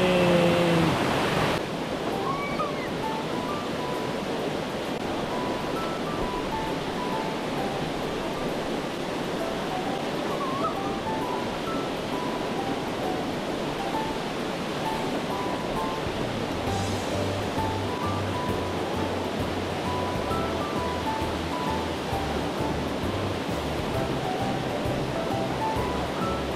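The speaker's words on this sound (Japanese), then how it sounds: "今日のゴールの最後の滝です。" A waterfall in a mountain stream gorge in Hiroshima gives a steady, dense rush of falling water that holds constant throughout, with a low hum joining partway through.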